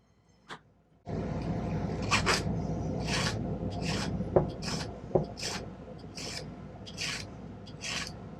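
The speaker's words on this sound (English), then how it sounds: "I'm filing away any excess solder that might have seeped through the seam there" A hand file rasps over a soldered silver spinner ring band, removing excess solder at the seam in a run of about a dozen short, rhythmic strokes, close and fairly quiet, with no talking.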